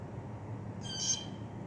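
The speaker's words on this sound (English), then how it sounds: "Oh, that's a loud ass bird." A single piercing, high-pitched bird call rings out over a low steady background hum, brief and fairly loud against the quiet surroundings.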